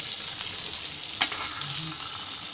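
Mackerel (bangda) fish, rava-coated, frying in oil, a steady close hiss and sizzle throughout with a faint clink partway, no talking.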